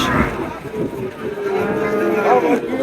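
Cattle low repeatedly at a busy cow and calf livestock market in Naogaon, the moos rising over a steady crowd murmur with no clear talk.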